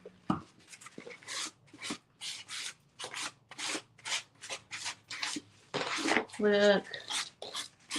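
Sandpaper of 220 grit rasps in short, regular strokes over a damp surface, close and fairly quiet, with someone speaking briefly between the strokes.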